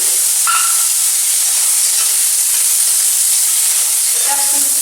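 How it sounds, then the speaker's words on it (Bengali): Paneer cubes frying in ghee in a kadai give a steady, close hiss and sizzle throughout, with a few brief clinks near the start and end. "পনিরগুলো ফ্রাই করে নেব।"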